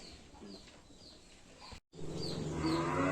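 Cattle kept for livestock health checks moo loudly and close by, a long low call with clear harmonics, with faint bird chirps and farm ambience around it.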